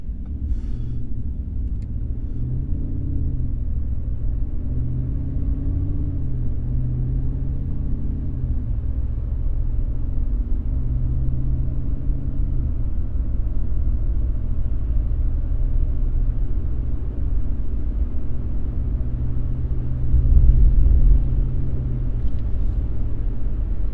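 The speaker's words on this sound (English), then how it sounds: "So there was about a quarter throttle acceleration up to 50." Ram 1500 pickup with a Borla S-Type exhaust accelerating at quarter throttle, heard from inside the cab as a steady low engine drone and road rumble that swells slightly near the end.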